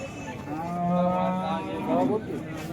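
A cow at the Modnimb cattle market gives one drawn-out moo that rises and swells, close and clear, against faint background chatter.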